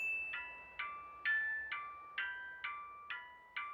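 A buried wristwatch alarm in Yakuza 0 beeps in a steady repeating pattern, about eight short electronic chimes roughly half a second apart, clear and alone against near silence.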